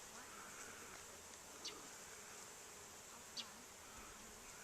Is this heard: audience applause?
no